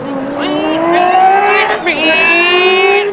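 A human voice imitates a revving Ferrari engine, producing a loud, close, buzzing rise in pitch, a brief dip, then another climbing rev over about three seconds.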